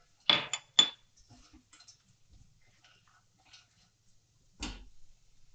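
Roasted cashews go into a pan of aval kesari, a sweet made from flattened rice, with two sharp metallic clinks of a spoon against the pan, then soft scattered taps and one more clatter near the end.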